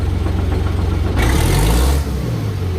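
An engine fitted with a hand throttle idles with a steady, rhythmic chug, then is throttled up about a second in to a louder, rougher roar that holds before easing slightly near the end.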